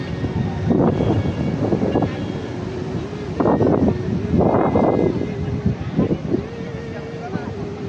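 Strong wind and big waves at Cox's Bazar beach in Chattogram, heard as a constant blustery roar buffeting the microphone, with surges rising and falling as someone speaks over it.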